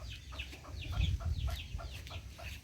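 A chicken clucking close by during an outdoor recording of mushroom feed mixing, a run of short repeated clucks and squawks at moderate volume over low background rumble.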